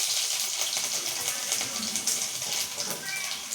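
Garlic sizzles in hot oil along with cumin and mustard seeds for an Indian home-cooked lunch, giving a steady, loud, close-up hiss and crackle that runs throughout without speech.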